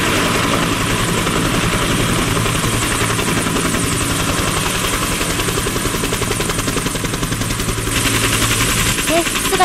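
A loud helicopter hovers close by at a military review at Camp Yamaguchi, its rotor chopping in a rapid steady pulse with a roaring engine underneath.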